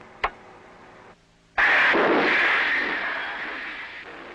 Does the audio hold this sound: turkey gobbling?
no